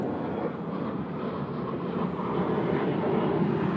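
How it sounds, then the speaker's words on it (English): Airplane passing loudly overhead near the Appalachian Trail in East Granby, Connecticut, a steady broad roar that swells slightly over a few seconds, with no voices. "That plane's loud."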